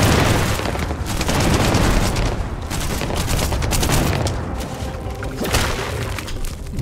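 A companion firing a shotgun in Starfield, repeated loud booming blasts in an ongoing firefight, heavy and dense throughout with no talking.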